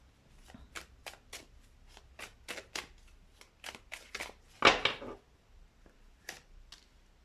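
Tarot cards are shuffled and drawn during a reading, producing close riffling flicks and soft slaps in quick bursts, with one louder shuffle near the middle, and no talking.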